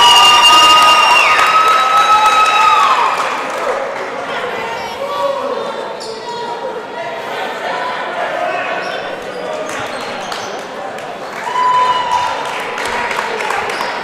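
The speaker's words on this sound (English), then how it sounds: "I really appreciate this crowd cheering for hustle plays." A crowd at a high school boys basketball game cheers and shouts in a gymnasium. Sneaker squeaks and ball bounces sound over the steady crowd noise, which swells again near the end, with commentary over it.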